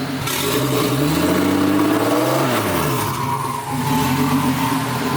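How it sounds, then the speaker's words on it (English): A Nissan R34 Skyline with a turbocharged RB25DE+T engine and open downpipe revs loudly nearby, the pitch sweeping up and falling back in two big swells over a rough, raspy exhaust drone. "For an open downpipe, it's not that loud, which is kind of crazy."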